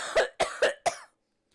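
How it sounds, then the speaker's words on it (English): Four quick, sharp coughs in a row, close and fairly loud, followed by silence. "I'm going to be coughing for a while."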